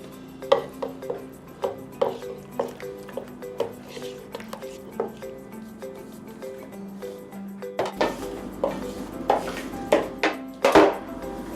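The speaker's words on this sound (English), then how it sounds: "Now we're going to mix it together with the pumpkin puree." Pumpkin puree worked into a mixture in a bowl: a steady run of utensil clinks and scrapes against the bowl, close and fairly loud, growing busier and more clattery toward the end.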